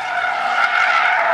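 A car drifting in Argentina, its tires skidding in a long, continuous loud squeal that holds steady under engine noise for the whole moment, with no talk.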